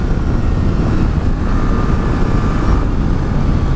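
A 2018 Yamaha Tracer 900 motorcycle rides along under light throttle, its engine a steady dense drone blended with heavy wind rush, loud and continuous without a break.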